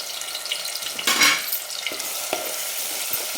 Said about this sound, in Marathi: आणि हे वाटण जे आहे ते आपण डायरेक्ट आता याच्यामध्ये टाकून द्यायचं